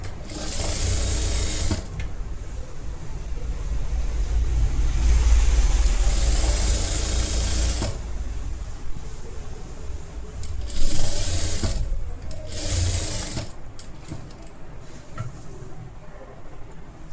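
Electric sewing machine running in bursts while stitching the armhole of a princess-cut blouse, a loud rapid mechanical whirr that starts and stops several times with short pauses between runs.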